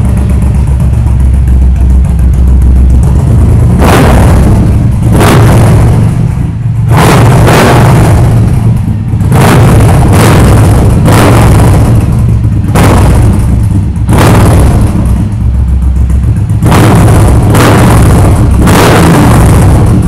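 A heavy sports motorcycle engine with an aftermarket exhaust idles with a deep rumble, then revs hard again and again in loud, repeated bursts that fall back between throttle blips.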